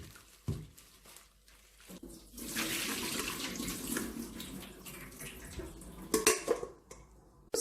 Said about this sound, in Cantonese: 咁我哋倒咗呢啲水佢，咁俾啲凍滾水落去，